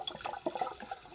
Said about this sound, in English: And now the water that's in the line going up here is going to pour out.